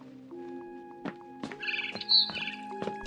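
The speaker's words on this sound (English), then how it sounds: "Then I heard chirping outside my window." A barn swallow chirps outside a window with a handful of short, bright tweets spread over a few seconds, fairly close, with a faint tonal hum underneath.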